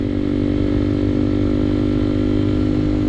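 Yamaha TW200 motorcycle riding, its engine a loud, steady, close drone with a constant rumble and no talking.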